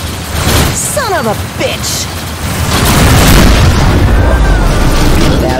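A missile streaks away with a rising whoosh and then bursts into a loud, rolling explosion in the space-combat game Rebel Galaxy Outlaw, with a man swearing over the launch.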